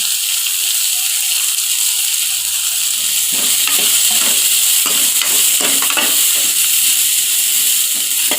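Onions and a spoonful of fennel seeds fry in a pan for Chettinad mutton gravy, giving a steady close sizzle with scraping clatters as they are stirred, and no talk over them.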